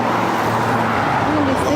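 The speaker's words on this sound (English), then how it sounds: "Damn, all these cars." Steady road traffic with cars passing close by on a busy street, a continuous engine and tyre roar throughout, with some voices mixed in.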